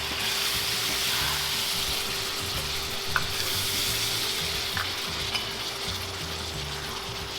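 Chicken fries in a pan for a toasted siopao filling, giving a steady, close sizzle with occasional small stirring clicks and a faint constant hum underneath.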